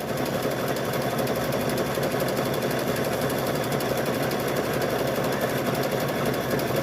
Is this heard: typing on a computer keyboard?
no